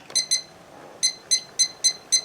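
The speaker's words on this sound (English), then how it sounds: "I'm going to turn my timer to" A kitchen timer being set while Alabama camp stew cooks, giving a string of sharp, close electronic beeps: two quick ones, a pause, then five more spaced at a steady rhythm.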